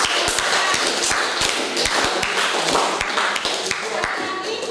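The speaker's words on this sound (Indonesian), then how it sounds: "Tepuk tangan dulu kalau benar." A group of students in an Indonesian classroom claps hands, giving irregular close, sharp claps with some thuds over a few seconds, while people talk underneath.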